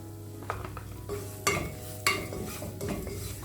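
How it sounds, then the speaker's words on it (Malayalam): A spoon stirs spice masala of coriander, chilli and turmeric powders sautéing in oil in a pan, with a low steady sizzle, a soft hum and a few sharp metallic scrapes and knocks against the pan, close and without talk. "എല്ലാം കൂടെ നന്നായി മൂപ്പിച്ചെടുക്കുക"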